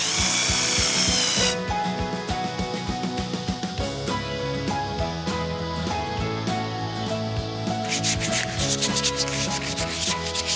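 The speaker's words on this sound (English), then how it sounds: "Everything gets a light sand and then it's on with the paint." A wooden bed gets a light sanding with a power sander, a continuous rough rubbing and whirring with shifting scratchy texture, close and fairly loud, over background music and no speech.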